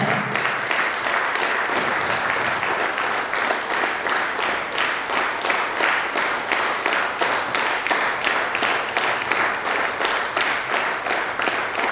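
Loud, continuous clapping from a crowd at an anniversary celebration event, with rhythmic pulses in the applause and no voices over it.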